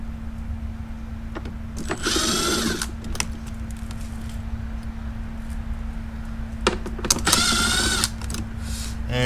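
Screws come out of the top of the HVAC box on a flood-damaged 2008 Porsche Cayman S 987, with two short whirring bursts from a power tool over a steady low hum, plus scattered clicks and handling noises nearby.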